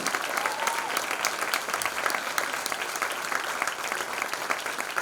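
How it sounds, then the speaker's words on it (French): Audience at an interactive improvised dance festival applauding the artists after the show, a dense, even rattle of many hands clapping that carries on steadily. "On peut applaudir tous les artistes"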